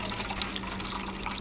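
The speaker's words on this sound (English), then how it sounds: "But about 1/3 of a cup of water into your cup here." Water runs into a cup for mixing dental plaster, a continuous close bubbling trickle lasting the whole moment.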